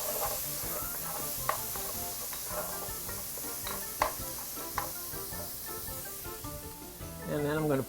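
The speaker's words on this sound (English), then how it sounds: "Give this a stir." Onions fry with a soft, constant sizzle in a pan for a quiche filling, a spoon stirring through them with occasional light taps and scrapes, fairly faint and close, with a brief rustle near the end.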